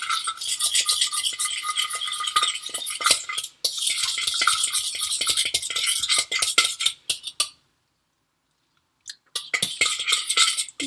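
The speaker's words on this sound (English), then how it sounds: "So some sugar, some salt. I'll go ahead and whisk that up some more." Coleslaw dressing whisked with sugar and salt in a bowl, brisk rapid clattering strokes close by, interrupted by a short silent pause before the whisking starts again.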